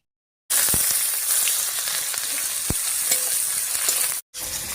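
Chopped onion hitting hot mustard oil in a wok after a whole-spice tempering, an abrupt loud, steady sizzle with a few stirring knocks, cut by a short pause near the end, with no talk.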